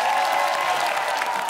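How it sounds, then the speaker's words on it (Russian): A studio audience at a comedy roast show applauds and cheers, a short, loud, dense burst of clapping with crowd voices underneath. "Аплодисменты."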